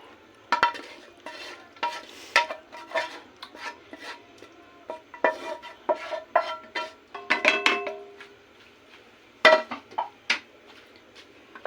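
Chicken dry chili being stirred into red sauce in a pan, a run of scraping, clattering utensil strokes in irregular bursts, close and fairly loud, with no talk.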